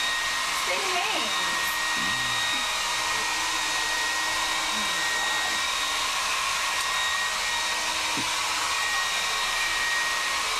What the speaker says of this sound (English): I'm just doing a quick blow dry.